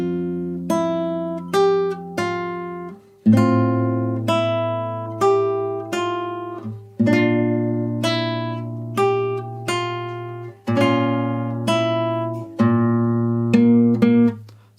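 Fingerstyle acoustic guitar in standard tuning plays the opening line of a song from Attack on Titan, a slow sequence of ringing plucked notes and chords with a steady bass, clear and close with no talking.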